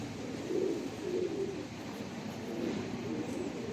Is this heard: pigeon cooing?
yes